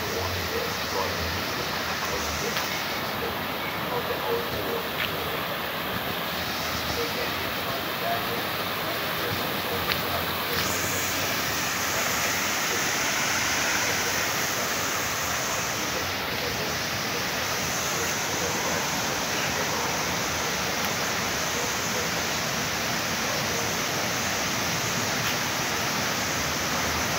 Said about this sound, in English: listen to the noise of the water